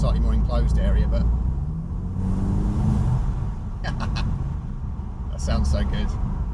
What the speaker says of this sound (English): I just want to try and get an authentic sound from this intake.